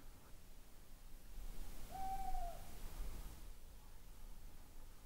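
One clear, drawn-out hoot from an eagle-owl or scops owl at moderate distance, standing alone above soft broadband hiss and faint rustling in a quiet outdoor setting.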